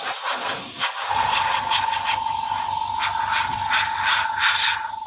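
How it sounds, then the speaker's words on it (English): Empty airbrush blowing only air over freshly painted flat medium grey, a steady close hiss that starts abruptly after a moment and holds loud and continuous, with a faint tonal whine underneath. "the airbrush should be empty. So all I'm going to do is float over with the air"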